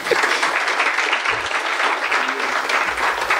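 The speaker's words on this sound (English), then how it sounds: "yeah, you can applaud." An audience applauds panelists taking the stage, with steady, dense clapping that stays loud and even throughout.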